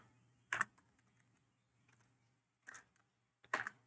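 A few isolated keystrokes on a computer keyboard while typing text into a design editor, three sharp, close clicks spaced apart in an otherwise quiet room.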